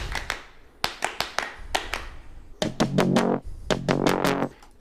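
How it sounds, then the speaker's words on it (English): Short, crisp clap layer in a music production drum groove, hitting in a steady rhythm of sharp transients, with a fuller layer of bass and tones coming in over the second half. "Yeah, this little clap layer."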